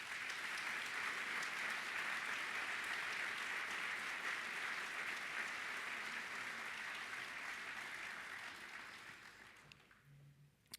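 Applause from a seated audience at a bowling association's annual convention meeting, a continuous even wash of clapping heard from a distance that fades out over the final two seconds.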